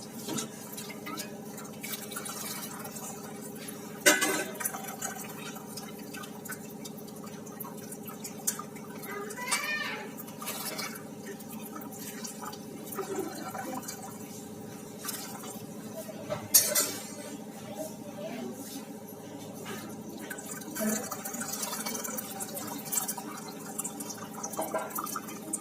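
Curdled paneer, split with vinegar, being rinsed in water in a kitchen vessel, with faint drips, soft sloshing and occasional light clinks of metal utensils throughout, quiet and close, with no talking.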